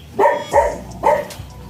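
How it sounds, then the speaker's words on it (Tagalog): A farm dog barks three times in quick succession, close and sharp, with a short gap before the last bark. "Ay, tumatahol pala siya."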